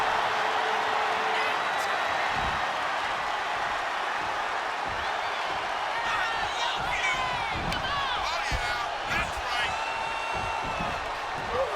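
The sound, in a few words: wrestling crowd cheering in WWE 2K25 video game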